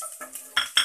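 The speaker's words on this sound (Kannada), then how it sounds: "ಈರುಳ್ಳಿ ಹಾಕ್ಕೊಳ್ಳೋಣ. ಅದನ್ನು ಚೆನ್ನಾಗಿ ಈ ರೀತಿ ರೋಸ್ಟ್ ಮಾಡಿ." Onions going into a hot oiled pan with chopped ginger and garlic for egg fried rice, stirred with a utensil: faint background hiss broken by two sharp clinking, scraping bursts of metal against the pan, close by and with no voices.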